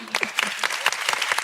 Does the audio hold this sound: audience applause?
yes